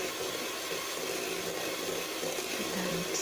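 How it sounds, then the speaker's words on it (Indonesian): Electric hand mixer whirring steadily as it beats an egg yolk into nastar pineapple cookie dough, a constant motor drone with a dense, even hum and no talking. "Setelah itu kita masukkan 1 butir kuning telurnya tadi ya, lalu kita mixer kembali"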